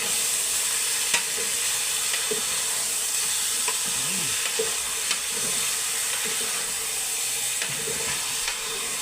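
Half a kilo of chicken frying in a pan, a steady close sizzle and hiss with light stirring and clinks throughout, no talking.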